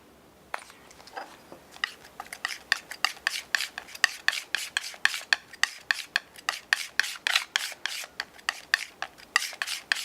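Brush or palette knife working blue and yellow acrylic paint together, a steady run of close, scratchy rubbing strokes repeating in quick rhythm, with no talk.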